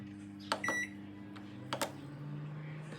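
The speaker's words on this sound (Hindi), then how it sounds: "रोटी का टाइम है तो ओवन में ये रखते हैं" A microwave oven heating a roti hums steadily while a few short electronic beeps sound in two quick clusters, close and clear, with no talking.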